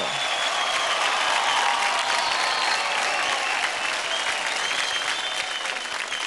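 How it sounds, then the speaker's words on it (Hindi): Sustained, loud audience applause fills the room after a children's Indian-style dance performance on a televised dance competition stage, steady and dense throughout with no speech over it. "जोरदार तालियां हो जाए"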